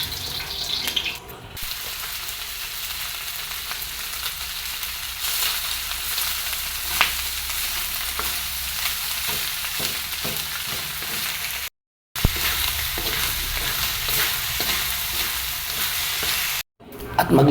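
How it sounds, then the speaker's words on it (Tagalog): Fried rice sizzles and fries steadily in a pan for breakfast, with repeated scraping stirs of a spatula throughout, close and loud, with two brief dropouts and no talk. "Gawa tayo ng fried rice para sa almusal."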